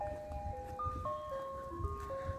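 Ice cream truck playing its stepped chime melody outdoors on a windy night, steady tune carrying over a low rumble of wind, fairly near and clear.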